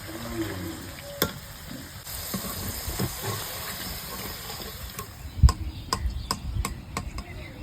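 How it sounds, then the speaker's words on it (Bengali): Potato pieces fry in hot oil for rui fish kalia, a soft, steady sizzle broken by sharp clicks and scrapes of stirring toward the end. "এবার চলো আলুটা ভেজে নিই"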